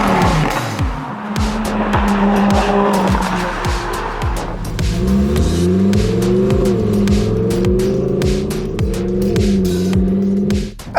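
Lamborghini Huracan STO supercar driven hard, a loud high-revving engine howling through rising pulls and quick upshifts, with tire squeal and sharp crackles between gears, close and powerful throughout.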